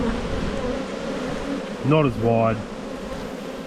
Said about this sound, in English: when you've got a lot of bees on the frame like this, the best thing to do is to shake them